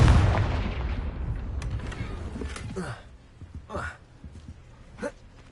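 A Confringo blasting spell in Hogwarts Legacy erupts as a loud, booming burst at the start and rumbles away over a couple of seconds, followed by a few fainter sharp magical cracks.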